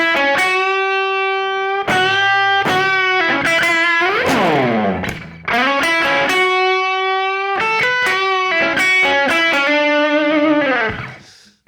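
An electric guitar with distortion plays a 12-bar blues lick in E with a 12/8 feel, sustained bends and quick note runs ringing loud and close, ending with a fading final note.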